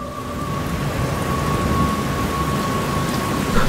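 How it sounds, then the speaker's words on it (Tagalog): Steady heavy rain with a low rumble of thunder fills a storm scene in an action-horror audio drama, loud and continuous with no voices over it. "Tuloy pa rin ang ulan."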